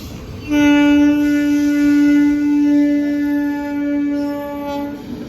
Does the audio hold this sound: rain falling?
no